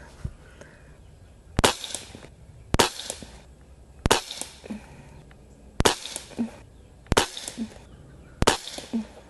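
Umarex Walther Reign .22 caliber bullpup airgun fired six times at a steady pace about a second and a half apart, each a sharp, loud, close crack with a short tail, between quiet gaps.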